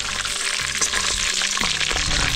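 Fish fries in hot fat, a steady close crackle and sizzle filling the whole stretch with no break and no talking.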